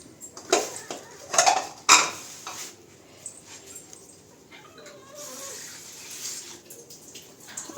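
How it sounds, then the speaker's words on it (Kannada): Cooking vessels being washed with water in a home kitchen: a few sharp metallic clanks and clatters near the start, then softer splashing and handling sounds, with no talking. "ಪಾತ್ರೆ ತೊಳ್ಕೊಡ್ತೀನಿ ನೀರು."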